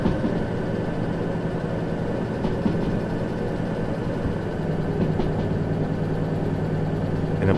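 A locomotive engine runs in the Derail Valley train game, a steady, loud, low diesel rumble droning continuously with faint rhythmic clatter throughout.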